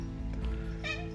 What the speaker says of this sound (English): And if you hear a cat in the background, that is my cat.